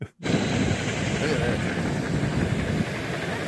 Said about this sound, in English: Check out this sweet helicopter crash.